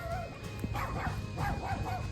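A neighbor's dog gives a few yipping, whining barks from some distance in a garden, with a steady high tone running behind the calls.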